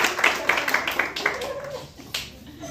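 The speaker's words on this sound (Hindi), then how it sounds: "तो उसके लिए तालियां खुद के लिए बजा लो" Audience at a Lohri celebration claps for themselves, a burst of sharp, fairly rapid handclaps in the first second and a half that thins out, with a lone clap later and background chatter.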